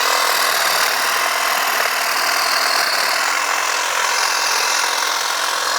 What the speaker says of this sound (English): I literally can trim this hedge, no problems